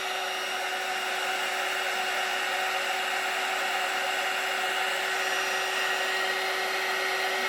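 A handheld heat tool blows hot air over a craft card, giving a steady, loud, close whirring hiss with a constant whine that runs unbroken throughout, with no voices.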